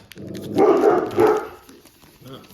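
A pet dog in a home barks at another dog entering its yard, giving two loud, close, excited barks followed by a softer yip.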